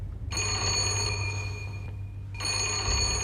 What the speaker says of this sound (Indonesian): Tak lama, telepon rumah berdering